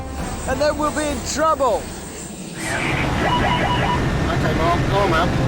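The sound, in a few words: Boeing 747 jet engines at full thrust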